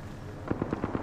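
Gunfire in Apex Legends, a quick burst of about five evenly spaced shots cracking out in rhythm after a brief quiet moment, fairly close and punchy.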